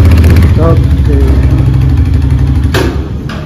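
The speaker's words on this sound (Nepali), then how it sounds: "मामाको बाइक चाहिँ यो हो मेरो बाइकको साउन्ड सुन्नुभयो होला" A motorcycle engine idles close by in a loud, steady low rumble that eases slightly near the end, with a voice briefly heard over it.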